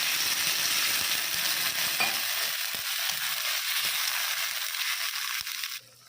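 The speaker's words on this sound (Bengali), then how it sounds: "আলুগুলো একটু ভেজে নেব" Potatoes fry in oil with a steady, dense sizzle and occasional stirring knocks, close up, before the sizzle suddenly drops away near the end.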